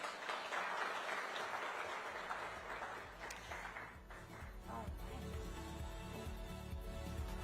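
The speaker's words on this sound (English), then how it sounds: "A huge round of applause once more." Audience applause at an education summit, a broad steady wash of clapping from a large crowd that holds for several seconds, with some murmuring and a faint voice rising near the end.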